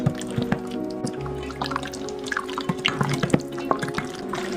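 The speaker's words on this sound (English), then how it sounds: "Then I'm just going to get the chicken all nice and coated." Sauce poured over chicken wings in a bowl to coat them, giving soft wet dripping and splashing sounds with light clinks, close and steady, no talking.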